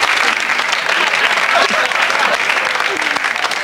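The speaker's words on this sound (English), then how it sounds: "What are you clapping about, you people?" Loud studio audience applause on a comedy football show, sustained dense clapping with some talk mixed in beneath it.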